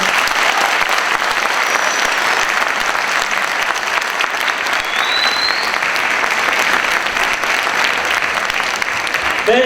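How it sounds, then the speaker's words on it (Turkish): A large audience claps steadily in a university hall, loud dense applause holding evenly throughout with no talk over it. "hep beraber güçlü bir alkışla lütfen"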